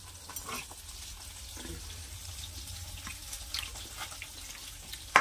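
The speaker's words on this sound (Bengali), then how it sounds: "জলটা বের করে দিলাম" Water drains off mourala fish that sat salted with turmeric, a soft steady trickle and splash running throughout with a few brief clinks and a sharper knock at the end, no talking.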